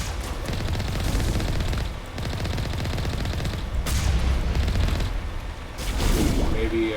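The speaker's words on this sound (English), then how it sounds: "I have 6 wheels, combat vehicle, with a machine gun, and a cannon" Sustained rapid gunfire and heavy booms come from a six-wheeled combat vehicle's machine gun and cannon in Mass Effect, dense and loud almost throughout, with brief dips near two and five seconds.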